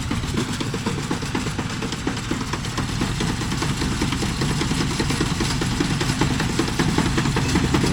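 A John Deere 5105 40hp 4WD tractor with a mounted cutter runs steadily in a field, its engine giving a continuous close, rumbling chug throughout with no talking.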